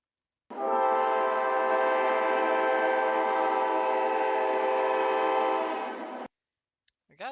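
A three-part echo train horn made for the Trainz game blows one long, loud chord for nearly six seconds, then cuts off abruptly, followed by a short faint rising tone at the end.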